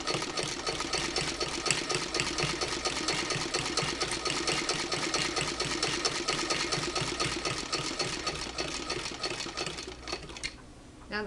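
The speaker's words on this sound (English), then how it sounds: "Now the 1588 is a machine that will more or less sew through anything" A hand-crank 1588 sewing machine stitches through quilt binding with a rapid, steady mechanical chatter of needle strokes, close and continuous. It slows and stops near the end.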